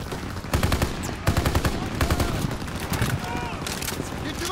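A Call of Duty WW2 battle sounds with loud, rapid bursts of machine-gun fire and overlapping shots in quick succession, while soldiers shout under the gunfire.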